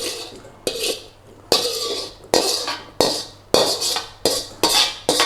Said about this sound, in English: Turn off the heat and put our veg in the bowl.